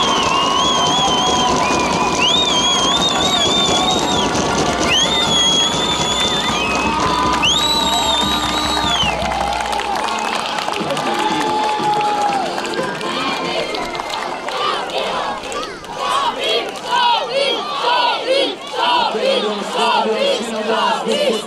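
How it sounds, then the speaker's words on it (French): Crowd cheering and applause at an equestrian awards ceremony podium for a team, a loud sustained roar with whistles and shouts, thinning into scattered clapping and voices toward the end. "Un tonnerre d'applaudissements pour l'équipe de Chambly."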